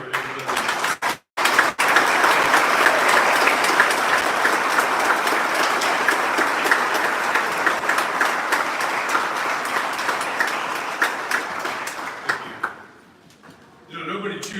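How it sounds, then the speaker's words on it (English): A large audience at a state police awards ceremony gives a sustained round of applause, dense and steady, with voices mixed in, tapering off near the end. "join me in one last round of applause for everybody"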